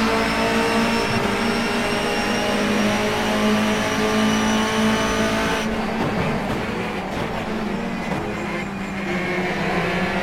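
A privateer Toyota Avensis race car in a racing video game with a sequential stick shift, its engine droning and revving continuously with shifting pitch, a gear change partway through, and no talk over it.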